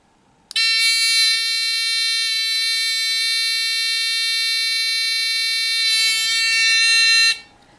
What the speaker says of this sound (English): a very simple buzzer